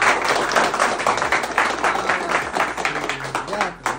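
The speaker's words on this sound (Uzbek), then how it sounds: "Bitta olqishlar." Applause from a class of students at an academy, dense and continuous clapping throughout with voices mixed in underneath.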